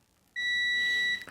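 A multimeter in continuity mode, its buzzer sounding one sustained, loud, steady high beep for nearly a second as the two probes touch, then cutting off.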